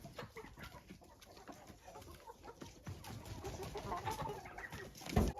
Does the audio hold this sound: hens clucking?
yes